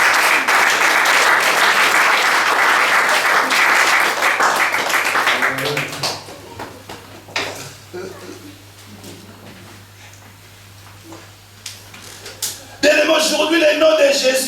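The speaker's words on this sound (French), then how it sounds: "Est-ce qu'on peut acclamer le Seigneur?" A church congregation bursts into loud, sustained applause and cheering for several seconds, then it fades to scattered claps and murmurs before another burst of clapping near the end.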